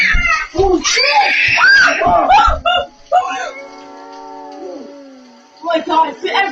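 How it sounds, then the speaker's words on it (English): Several people scream in loud, overlapping shrieks from scary videos, rising and breaking off, then a long wavering wail and a final burst of cries. "everybody's fucking screaming!"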